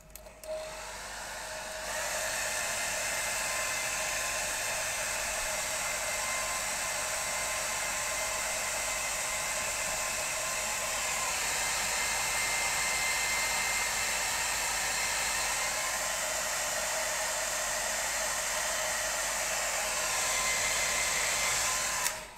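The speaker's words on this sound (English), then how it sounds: "Right, I'm going to get the hairdryer on this for a sec." A hair dryer is switched on and runs for a long stretch over wet acrylic paint, a loud, steady whooshing whine close by that stays even until it clicks off at the end.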